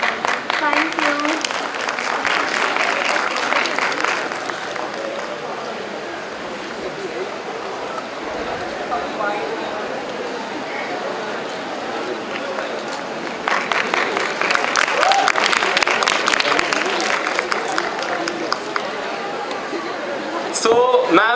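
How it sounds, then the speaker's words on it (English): An audience at a college fest event breaks into a round of applause, swelling at the start, easing into crowd chatter and speech, then rising loudly again near the end. "Please welcome ma'am with a huge round of applause, everyone."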